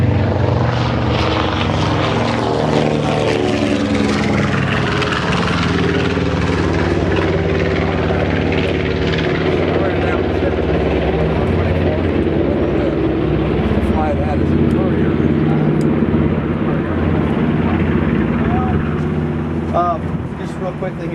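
Radial piston engines of the B-29 Superfortress FiFi roar loudly and steadily throughout, a dense droning drone heard from inside the aircraft, with a voice faintly under the noise.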